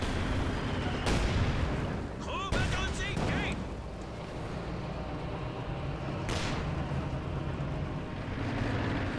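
Artillery fire in a Company of Heroes 2 one-versus-one match lands as several loud, sharp booms spread across the stretch, over a rumbling battlefield din, with a voice talking throughout.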